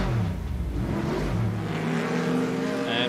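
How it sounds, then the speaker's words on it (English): A GT race car spins off and revs hard, its engine rising and falling in pitch as a loud, continuous drone with a scrubbing tire texture. "Look at the car spinning down"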